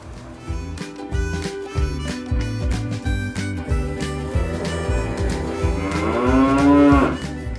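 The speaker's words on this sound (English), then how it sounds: "That's the sound of my cows mooing." Cows moo repeatedly in deep, drawn-out calls, close and loud, with one rising, longer moo near the end.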